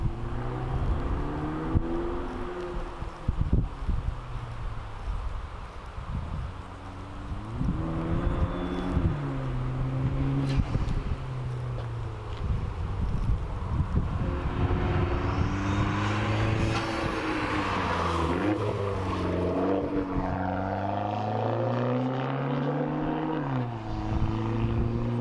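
A car with a straight-piped exhaust revs repeatedly, heard from outside in strong wind, its engine note rising and falling in loud sweeping surges with heavy wind buffeting throughout.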